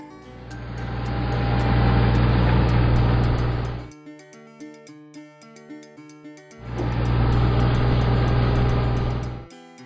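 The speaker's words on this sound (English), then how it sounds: "Green tractor." A toy tractor's engine rumbles loudly and steadily, stops for a few seconds while a bright chiming tune plays, then starts up again with the same even drone.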